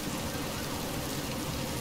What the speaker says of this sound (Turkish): Kapalı mekanda içeri yağmur yağıyor.